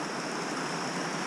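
A river flowing at Dartmeet on Dartmoor, a soft continuous broadband rush of moving water, steady and fairly faint with no voices.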